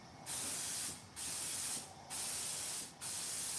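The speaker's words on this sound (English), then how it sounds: "I just feel like the spray is not wide enough for me." A spray gun spraying automotive paint hisses in four long bursts separated by brief pauses, a steady, loud airy spray close by, with nothing else heard.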